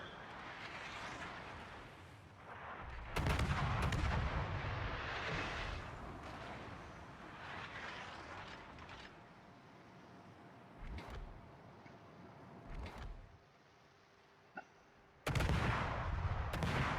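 Warship guns fire in a naval battle video game, a destroyer near smoke cover: heavy booming salvos at about 3 and 15 seconds, with sharper single reports between over a steady engine and sea rumble.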